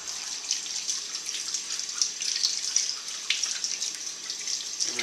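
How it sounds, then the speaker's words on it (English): Garden radishes being rinsed in a kitchen sink under a steady stream of running tap water, close and fairly loud, with a continuous hiss and light splashing and no voices. "Give it a good rinse, get the soil off of it."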